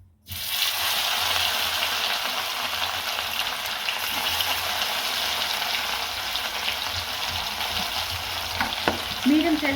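Fish fried in hot oil in a kadai on a stove at medium heat, giving a steady, close, broadband sizzle that runs unbroken for the full stretch with no voices.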